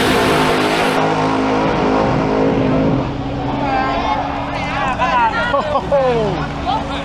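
A nitro drag car at a Southeast Asian drag strip event, a loud sustained engine roar with a dense rumbling tone that eases after the first few seconds while a nearby voice talks over it.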